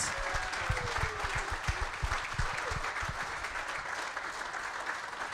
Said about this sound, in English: How about a round of applause for Jordan Love tonight?